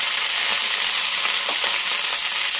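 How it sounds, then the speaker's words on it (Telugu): Onions, garlic and dried red chillies fry in a pan with a steady, close, dense sizzle and faint crackles throughout, and no voices. "ఉల్లిపాయలు, ఎల్లుల్లిపాయ, ఎండుమిర్చి అన్నీ బాగా వేగినాయి కదా"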